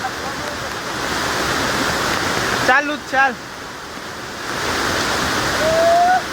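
Loud rushing water pours steadily at Jatashankar Mahadev temple in Junagadh during rain, a broad continuous roar close by, with a few brief voices calling out over it.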